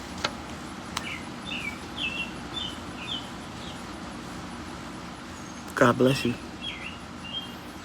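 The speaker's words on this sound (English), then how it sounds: "Y'all hear the birds chirping?" Birds chirping outdoors just before rain, a few faint, high, scattered tweets over a hushed background, with a person briefly speaking partway through.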